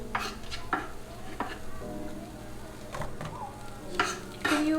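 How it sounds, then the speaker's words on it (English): Ground turkey sizzles faintly in a frying pan at home, with potatoes and onions also in the dish, under repeated scraping and clinking of a utensil stirring against the pan. "they're already sizzling"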